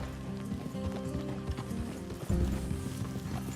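Horses' hooves clip-clopping in the Red Dead Redemption 2 video game, a steady, continuous run of close hoofbeats that carries on throughout with no talk over it.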